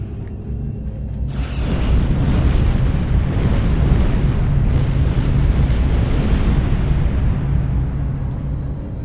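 In the Star Trek Online game, a Metron gas cloud detonates under weapons fire, a sudden loud burst that swells into a long, heavy roaring rumble sustained for several seconds.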